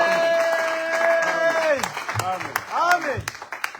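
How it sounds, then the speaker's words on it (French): A church congregation claps and cheers in praise of the Lord, scattered hand claps rising over loud voices shouting and calling out close by. "Est-ce qu'on peut acclamer pour le Seigneur?"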